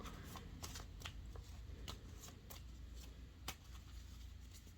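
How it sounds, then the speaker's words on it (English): A deck of oracle cards shuffled by hand in a steady series of crisp riffling flicks and snaps, close and fairly soft, continuing without speech. "maybe you shuffle and like figure out a card that goes with that"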